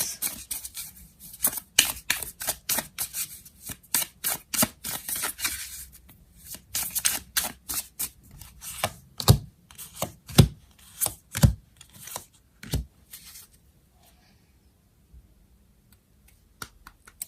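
Tarot cards being shuffled and piled, a long run of crisp riffling bursts and snapping slaps close by, dense at first, then sparser sharp flicks before trailing into near silence.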